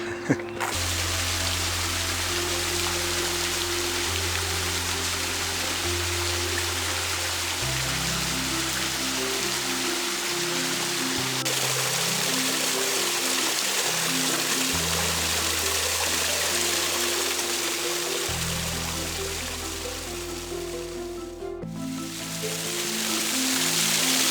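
Water flows at the Yellow Spring, an iron-rich spring in the Glen Helen Nature Preserve, with a continuous close trickling rush carrying on under shifting low tones, with no voices.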